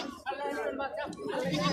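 Goats at a farm bleat in several wavering, close calls one after another, with a quieter bleat or voice in the background.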